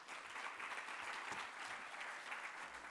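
Steady applause from a conference audience welcoming a keynote speaker at a digital rights event, dense continuous clapping held evenly for several seconds without talk.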